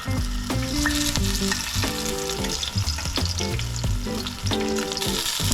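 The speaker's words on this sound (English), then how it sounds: "in a frying pan set to medium heat, we're gonna throw in our chicken" Chicken fries in a frying pan over medium heat, giving a loud continuous sizzle close by, with occasional clinks and shifting sounds throughout and no speech.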